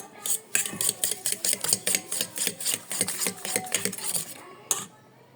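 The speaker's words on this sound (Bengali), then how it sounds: "দুই টেবিল চামিচ এগুলো দুধ দিব এখন আমি এটা ভালোভাবে মিক্সড করে নেব" A spoon beats milk into batter in a bowl, giving a fast, regular series of clinking, tapping strokes against the bowl, close and loud, ending with a last sharper clink.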